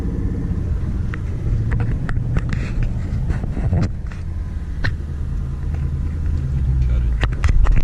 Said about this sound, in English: you'll eventually let go of the clutch all the way and you'll start moving